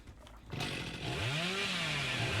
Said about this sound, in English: As we'll chainsaw it.